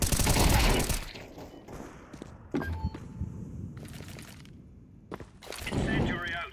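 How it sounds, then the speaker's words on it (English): Counter-Strike 2 gunfire on the Mirage map: a loud burst at the start, then scattered sharp shots and thuds, ending in another heavy volley. "Opening fire."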